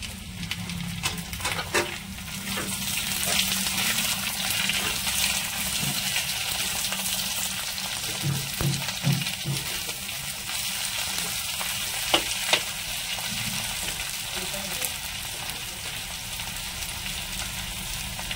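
Eggplant pieces fry in a pan with a dense, rain-like sizzle and crackle that runs steadily, broken by a few sharper spatters and stirring sounds.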